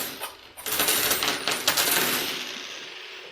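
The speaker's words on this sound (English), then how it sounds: "so you just dumped a bunch of coins out" A bunch of coins dumped out in a rush, a clattering metallic cascade of many jingling pieces that swells and then trails off, close and alone.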